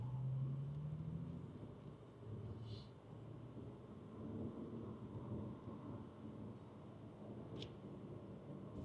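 A 2007 Bentley Continental GTC convertible pulls away from a stop, its engine a low, faint, steady rumble heard from inside the car, with a couple of brief soft clicks along the way.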